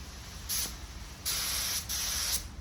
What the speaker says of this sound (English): do a test spray first.